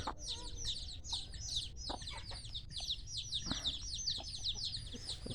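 Backyard chickens, including a Burmese hen, cluck and chirp repeatedly in quick bursts, fairly close but faint, over a low background rumble.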